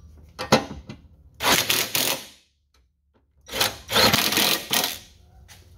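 Tools working on the rock slider bracket of a Ford Bronco, with two separate bursts of broadband clattering and scraping, about a second each, separated by a short silent gap, close and fairly loud with no talking.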